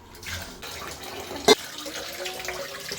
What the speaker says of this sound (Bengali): মাছগুলো একটু ধোবো আর কি।